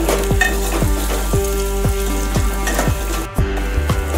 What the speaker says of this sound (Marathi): कांदा आपल्याला जास्त लाल होईपर्यंत भाजायचा नाही आहे, हलकासा थोडासा मऊ झाला की लगेच आपल्याला बाकीचे जिन्नस टाकायचे आहेत।